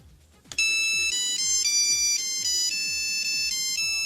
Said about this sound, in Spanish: en algunas revistas venían las partituras para tú hacerte tu propio tono del móvil, que tenía este efecto 8 bits